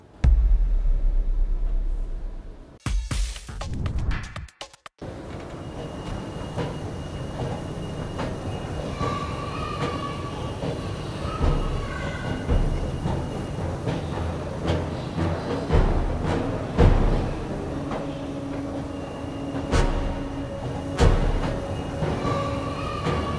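Interior of a Copenhagen-style metro subway train: a steady rumbling ride with rail noise and faint tonal whines, preceded by a sharp burst and brief door or transition noise, continuous and close throughout.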